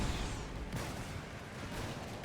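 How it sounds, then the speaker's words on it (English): Peacekeeper infantry fire pump-action shotguns in the real-time strategy game Red Alert 3, a faint, dense clatter of overlapping blasts heard from a distance with no voices. "Pump action shotguns."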